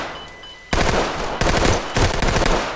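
Rapid automatic gunfire from the tactical shooter game Ready or Not, fired in several loud, dense bursts at a man, following a quieter moment with faint electronic tones.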